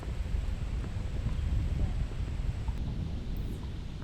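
Wind blows across an open disc golf course on a gusty day, a low rumbling buffet on the microphone with faint rustling, steady and moderately loud.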